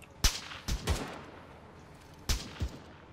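Gunfire in the military simulator Arma 3 on the island of Altis, a few separate sharp cracks with booming low tails and quiet gaps between them, over faint ambient background.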